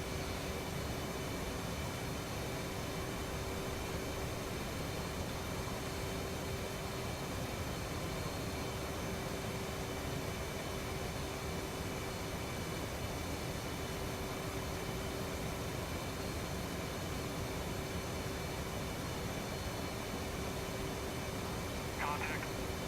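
A jet engine drones in the flight simulator DCS World near a carrier, a steady, dense, unbroken roar with a faint tonal whine, holding level throughout.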